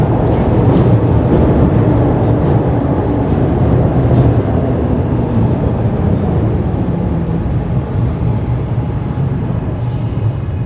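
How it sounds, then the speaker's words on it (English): A loud train passes close by, a continuous heavy rumble with rail screech and a brief air-brake hiss, steady for the whole stretch with no talking over it. "Sorry, loud train."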